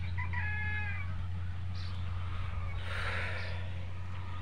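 Farm chickens kept for the local market, heard as a few brief clucks and a faint crow-like call over a steady low hum of background noise, with no talking.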